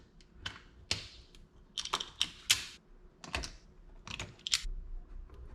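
Sharp, irregular snips and clicks ring out close by as wire connectors are cut off a car lighting harness on an Infiniti FX-series SUV, with no voices.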